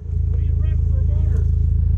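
Chevrolet Ecotec 2.4 double-overhead-cam engine running, a loud steady low throb with an even pulsing rhythm, someone talking over it.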